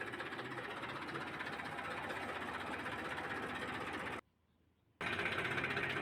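A tractor engine runs steadily at close range with a dense, buzzing chug, cuts out briefly for under a second, then resumes just as loud, on a farm while cumin is sprayed.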